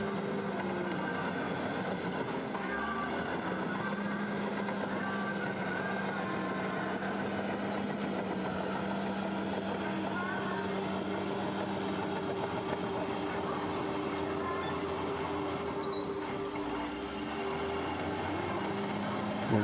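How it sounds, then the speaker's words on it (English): A tractor grades a motocross race track at the Kramolin Grand Prix, its engine holding a steady, unbroken mid-range drone for the whole stretch, with only slight shifts in load and no voices. "the tractor's still grading"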